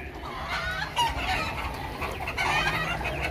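Chickens on a farm in Fujairah cluck continuously and fairly loudly, with overlapping calls from several birds and a faint crow-like note mixed into the busy flock noise.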